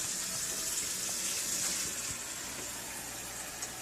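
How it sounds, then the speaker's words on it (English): Water pours into a cooking pot in a home kitchen, filling it for boiling potatoes; a steady, close, rushing splash runs unbroken for the whole stretch with no talk over it. "I'm going to put some water in this pot and start boiling my potatoes."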